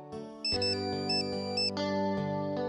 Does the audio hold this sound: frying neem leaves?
no